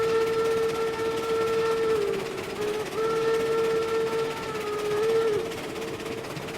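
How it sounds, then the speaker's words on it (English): A steam locomotive whistle in the game RailRoads Online blows a long, steady, plain tone that holds for several seconds with slight wavering, loud and close over a low rumble of the train. "This one does have one of the more plain whistles in the game"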